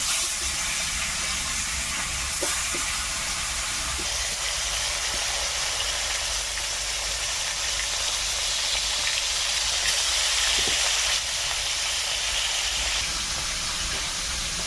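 Freshwater river fish, bele and kan fish, frying in hot oil in a kadai, a steady loud hiss and crackle running throughout with no talk over it.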